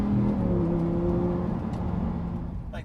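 An Audi R8 V10 engine rumbles behind the driver with a low throaty hum that fades gradually, heard from inside the car with faint road whir.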